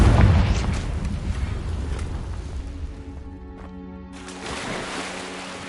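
The Confringo blasting curse from a video game erupts in a loud, deep boom that rolls and fades over several seconds.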